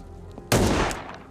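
Gunfire in the Ground Zero video game: one loud, sharp blast with a short decaying tail, close and alone with no talk.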